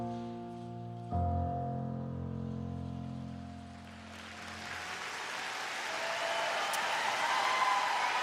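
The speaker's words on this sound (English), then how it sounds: "And the supportive applause for the young 17-year-old from Ottawa" At the Skate Canada 2023 women's free skate, music fades out as the arena crowd gives supportive applause to a 17-year-old skater from Ottawa after a fall, a soft hiss of clapping swelling gradually.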